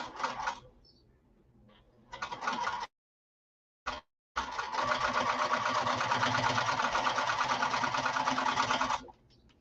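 A sewing machine stitches a slouch bag in steady rapid bursts, running briefly, pausing, then whirring continuously for several seconds before stopping; close and fairly loud with no talking.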